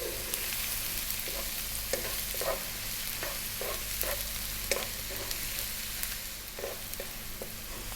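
A cup of onions sizzling in a pan for fish masala, a steady frying hiss with regular scraping stirs roughly every half second, close and moderately quiet with no talking.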